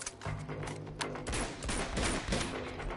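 Rapid bursts of gunfire fill a firefight in Uncharted 2: Among Thieves, with dense overlapping shots and mechanical clatter, loud and close with no talk.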